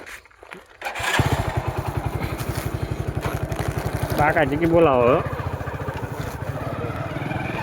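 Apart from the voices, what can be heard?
motorcycle riding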